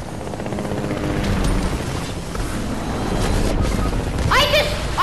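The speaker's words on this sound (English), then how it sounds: "I got him so low with the chopper." Low, steady rotor-like whir of a helicopter in a Fortnite match, running continuously under loud in-game action, with a few short tonal blips near the end.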